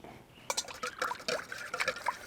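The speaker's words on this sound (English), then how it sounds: "We're gonna whisk that baby up." Milk is whisked in a bowl for a French toast casserole, a quick rhythmic liquid sloshing and clicking up close, lasting a couple of seconds.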